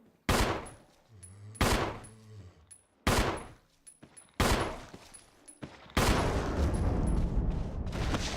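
Handgun shots from the Resident Evil Remake video game ring out as several sharp, separate bangs a second or two apart, then a denser burst of gunfire with game noise, and no one speaks.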